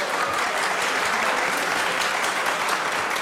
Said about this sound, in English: refrain from applauding Yes. so we can get on with this?